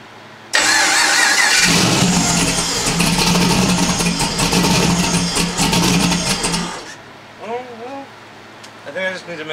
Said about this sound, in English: The LS3 starter is definitely quieter than the one I had in there.